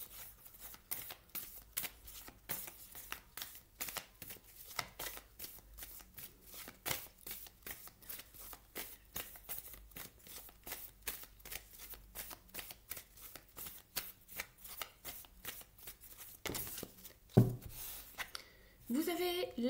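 Oracle cards shuffled in steady, rapid riffling bursts for nearly twenty seconds, close and fairly quiet, with a brief louder rustle near the end.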